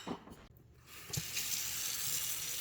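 A tap runs into a sink to fill canning jars with water, starting with a few faint clinks and splashes, then opening into a steady, hissing stream that continues evenly to the end.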